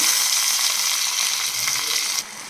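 Tomatoes fry in hot oil in a pan while making rasam, a steady close broadband sizzle that holds evenly for a couple of seconds and then drops off abruptly near the end.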